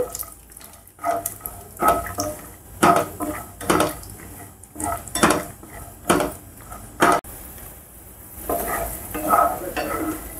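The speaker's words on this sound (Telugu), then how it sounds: "ఇలాగా వేరుశనగ పలుకుల్ని స్లో ఫ్లేమ్లో వేయించుకోవాలి" Peanuts frying in oil on a low flame for upma, with repeated scraping stirs of a utensil against the pan over a soft background sizzle, close and moderately loud, no talk.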